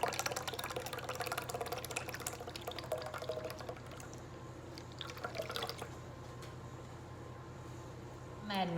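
A whole can of evaporated milk poured into still-warm potato water in a kitchen, a soft continuous trickling pour with faint splashing, fairly quiet and close.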